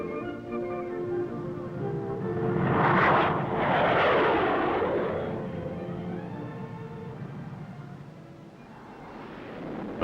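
A Skyhawk jet flies past during 1960s Marine Corps flight training, a roaring engine swelling to a loud peak, then fading into a distant rumble before another faint rise.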